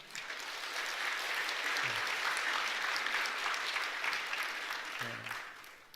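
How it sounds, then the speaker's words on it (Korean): A church congregation applauds to welcome a returning elder during Sunday worship, a sustained, even roll of clapping from a large room, with a couple of brief low thumps. "여러분 박수로 환영하겠습니다"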